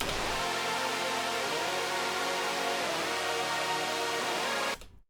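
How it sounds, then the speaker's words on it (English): Saw-stack synth lead built in FL Studio 21 with hardly any effects: a dense, bright, buzzing wall of sustained chords, upfront and alone for about five seconds before cutting off abruptly. "So we have this saw stack I mentioned that sounds like this."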